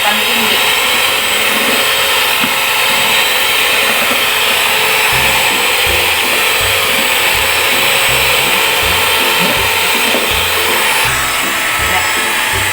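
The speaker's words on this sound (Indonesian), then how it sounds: "kita aduk terus adonannya sampai dia mengembang seperti ini" An electric mixer whirs at high speed through cake batter, a steady, loud motor drone with rhythmic beating clatter under it, running without a break.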